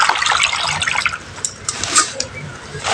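Water splashing and trickling into a bowl for a salt-water soak of pumpkin leaves, close and uneven, with a few louder splashes.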